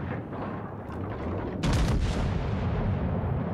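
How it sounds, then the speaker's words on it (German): Battleship main guns firing in the World of Warships Legends naval game, on the Tier 3 South Carolina: a dense, loud rumbling barrage with a heavier boom partway through, sustained without speech. "4 Sekunden können wir sogar noch mal schießen"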